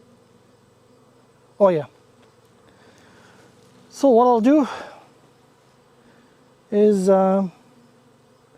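Honeybees around an opened hive make a low, steady hum in the background while someone speaks in short bursts over it.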